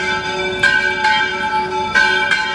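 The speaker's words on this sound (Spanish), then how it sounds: "sigue el repique de las campanas" Church bells in Sayula, Jalisco peal loud and near, with ringing strikes repeating over a sustained, humming bell tone.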